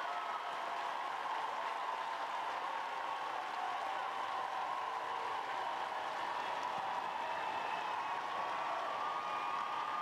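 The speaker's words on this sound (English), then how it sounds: "The home crowd making plenty of noise." The home crowd at a women's football match, Arsenal against Brighton & Hove Albion, roars and applauds in a steady, dense wash of noise that fills the whole stadium throughout.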